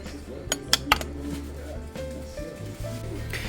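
Ribbed portion-sized salad bowls, 12 cm across, clink together three times in quick succession early on, bright close chinks followed by quieter handling sounds and shop background.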